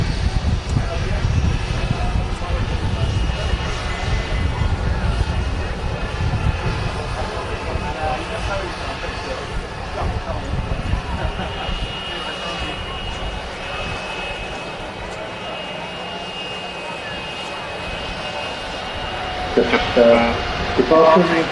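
A TUI Boeing 787 Dreamliner rolls for takeoff at Manchester Airport, a loud low engine roar that is strongest at first and slowly eases as the jet moves away, with voices in the background.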